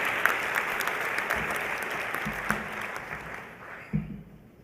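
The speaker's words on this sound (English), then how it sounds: "And I'd like us to give them a special applause for all the arrangements." An audience claps steadily at a university welcome ceremony, a dense wash of applause that fades out near the end.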